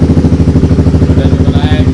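A Honda motorcycle engine runs close by with a steady, pulsing mid-pitched idle thump, loud and continuous throughout; no kick-start stroke stands out, and faint voices may sit in the background.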